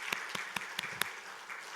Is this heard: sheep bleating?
no